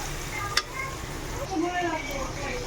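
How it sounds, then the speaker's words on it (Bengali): Mutton being mixed into hot oil in a frying pan, with a soft sizzle under a spatula scrape and a sharp clink early on, with no talking. "এবার আমি মাংসটা মিশিয়ে দেবো"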